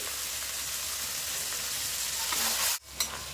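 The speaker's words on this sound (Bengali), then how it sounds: "টক দই দিয়ে একটু কষিয়ে নেবো।" Masala with tomato and sour yogurt fries in a pan for a large boal fish kalia, a steady sizzle that cuts out abruptly near the end, followed by a single clatter.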